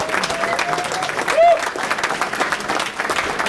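An audience at a rail advocacy group's annual meeting claps in a dense, steady round of applause, with a few voices and a brief whistle mixed into the crowd noise.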